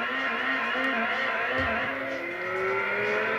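A modified Neon car engine in the video game Gran Turismo 2 drones steadily with a thin, buzzy whine, its pitch rising slowly toward the end, loud and continuous with no talking.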